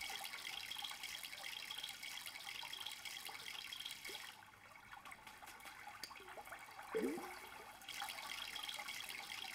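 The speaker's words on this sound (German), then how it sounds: "Können wir so lange gießen, bis der gewachsen ist?" Plants being watered in the MySims video game on Switch, a continuous splashing, trickling water effect that briefly softens midway and resumes, steady and close, with no talking.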